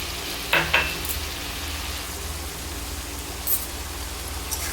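Chopped medium-size tomato dropped into half-cooked bottle gourd curry in a pan, giving a soft, steady frying hiss with a couple of brief clatters early on and faint scrapes later.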